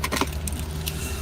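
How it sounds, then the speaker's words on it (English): Key fob for a 2018 Ford Expedition jangling in a brief, close metallic rattle over a steady low hum. "You got this awesome key"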